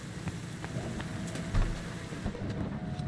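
Rain falling steadily in the video game Cyberpunk 2077, a continuous patter with low rumbling wind and occasional heavier thuds, moderately loud with no talk.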